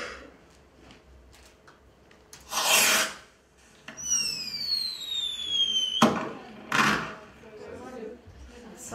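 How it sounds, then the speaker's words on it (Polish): Fireworks sound effect played on radio, with short bursts and a rising whistling streak between them, moderately loud with quiet gaps. "Salut, efekty takie jak fajerwerki"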